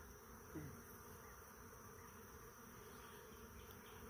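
Honey bees buzzing around beehives on a first beekeeping outing, a faint, steady hum that holds through the whole stretch with no talk over it.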